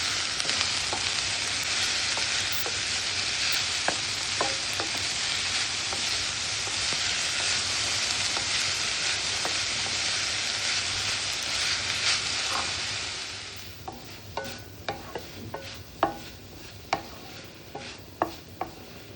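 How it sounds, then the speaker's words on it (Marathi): Modak filling of coconut and jaggery is stir-fried in a pan over a low flame, with a continuous close sizzle for most of the clip before it thins into scattered scraping and tapping strokes of the spoon. "सारण सारखं परतत राहिलं पाहिजे, नाहीतर लागण्याची शक्यता असते"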